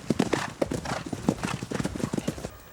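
Hooves of skilled hunting horses clip-clop in a quick, uneven rhythm close by during a mounted hunt with hounds, with an occasional whinny mixed into the steady clatter of steps.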